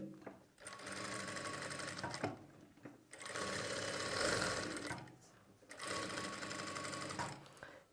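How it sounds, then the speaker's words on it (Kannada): A sewing machine runs in three steady bursts of stitching along a quarter-inch seam margin, with short pauses between runs; the whirring motor is close and fairly loud, with no talking. "ಈಗ ನಾವು ಈ 1/4 ಇಂಚ್ ಮಾರ್ಜಿನ್ ಏನಿರುತ್ತೋ ಆ 1/4 ಇಂಚ್ ಮಾರ್ಜಿನ್ಗೆ ನಾರ್ಮಲಾಗಿ ಸ್ಟಿಚಿಂಗ್ ಮಾಡ್ತೀವಿ."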